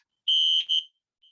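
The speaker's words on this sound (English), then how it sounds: "My built-in fire alarm has gone off, but it's probably a false alarm and it will stop in about 5 or 10 minutes." A built-in fire alarm going off indoors, most likely a false alarm: a loud, piercing electronic tone in two close bursts, then a faint short chirp trailing after.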